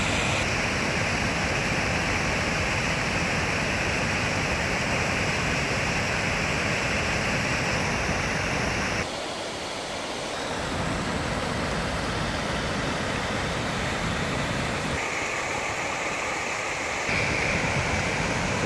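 The Leno mountain stream at Rovereto pours over a small waterfall in a steady, loud, close roaring rush of water that dips briefly a couple of times as the view shifts.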